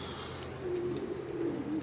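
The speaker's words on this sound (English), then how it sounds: "This guy's an import pigeon from Europe." In a loft, an imported European pigeon gives soft, low cooing, with a couple of drawn-out coos heard close over quiet background hiss.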